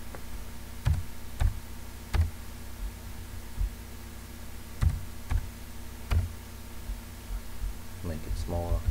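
Computer mouse clicks while dragging and resizing elements in free Android game-making software; a handful of sharp, close clicks in an irregular rhythm over a low steady hum, with a brief voice near the end.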